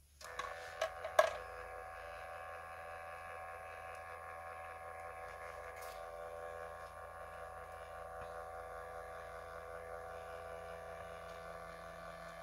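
A small inkless thermal printer bought from TEMU runs with a steady high whirring hum that holds for about eleven seconds after a few short clicks at the start.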